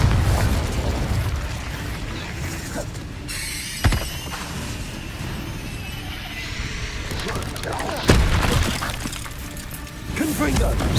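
Confringo spells cast in a Harry Potter video game set off explosive blasts, with sharp bursts near four and eight seconds over a continuous rumble of game noise and effects.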